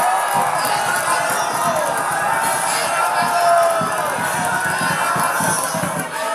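Applause from the audience at a South Sumatra gubernatorial candidate debate, a steady crowd clapping with a broad hiss of hands and murmur throughout, fairly loud and sustained.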